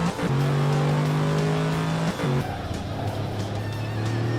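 A McLaren F1-like supercar in Gran Turismo 4 howls at high revs, holding a steady engine note, dropping briefly at a gearshift, then climbing again, loud and close with faint tire noise.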